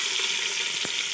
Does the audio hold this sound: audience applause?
no